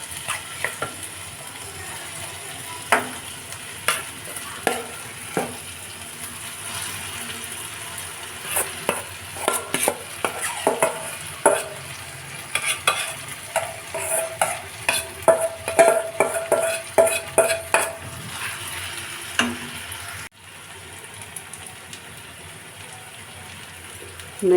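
Small pieces of boiled potato fry in a pan as they are stirred, with a low steady sizzle under a run of clicking, scraping spoon strikes that grow busier midway, then drop away near the end.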